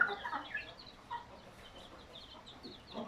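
A broody Gurk hen clucks softly among her eighteen chicks, with faint peeping and scattered short calls at close range in a quiet indoor coop.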